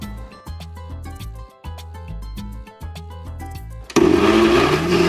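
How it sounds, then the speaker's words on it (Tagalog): A blender grinds grated cassava for pichi-pichi in loud, pulsing bursts with brief pauses between them, then surges into a harsher, higher continuous whir near the end. "Ilalagay natin siya sa food processor or sa blender."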